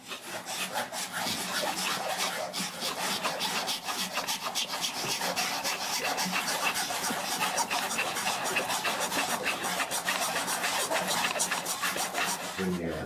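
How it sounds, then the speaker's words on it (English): A fine hand saw cuts through wood in marquetry work, giving a steady, rapid rasping stroke rhythm that runs close and continuous, with people talking quietly over it. "you'll feel the saw stop grabbing when you tip it backwards, because the teeth aren't biting"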